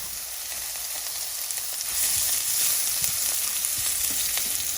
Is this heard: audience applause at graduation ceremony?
no